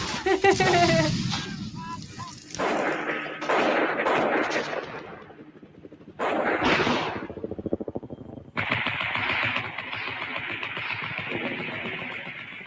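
Viet Cong machine guns fire at aircraft, rapid rattling bursts in several stretches with pauses between them, loud and close, with speech running underneath.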